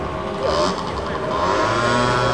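A scooter engine revs and drones loudly nearby, its pitch rising and falling slightly over a couple of seconds.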